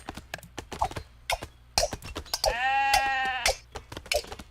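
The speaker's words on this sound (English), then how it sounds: "And we are seeing the sheep strategy by Grunyas here. Look at that. Getting those sheep out, slaughter them" Sheep bleat in the strategy video game 0 A.D., with one long wavering bleat in the middle amid rapid clicking and clip-clop sounds, no talk.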